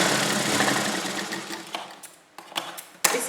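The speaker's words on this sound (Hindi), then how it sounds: "अब हम थोड़ी दूरी पर एक सिलाई और लगा लेंगे।" A sewing machine runs steadily, stitching seams into a salwar, with a few short pauses and restarts toward the end, close and clear with no talking.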